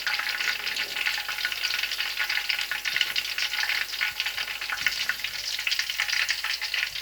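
Chicken pieces frying in hot oil for chilli chicken, a loud, steady, close crackling sizzle that continues without a break.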